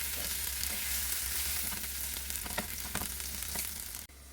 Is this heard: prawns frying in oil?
yes